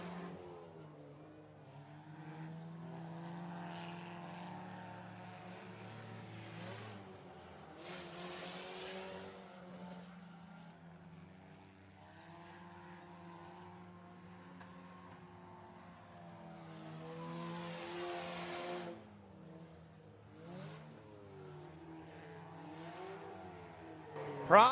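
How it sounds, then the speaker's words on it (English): Race car at a dirt speedway circuit slowing as its engine revs up and drops while the driver struggles to find a gear, with possible transmission trouble, sustained and fairly distant over nearly half a minute. "You hear him trying to find a gear as he'll come to a slow."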